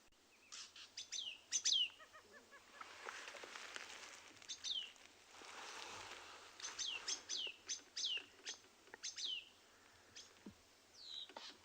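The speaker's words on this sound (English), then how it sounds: "listen to curra-chain thrush and the fork-tailed drongo getting very upset" A thrush and a fork-tailed drongo calling agitatedly at sunset at Tswalu, with repeated sharp downslurred whistles and chattering notes at irregular intervals, close and clear over a quiet background.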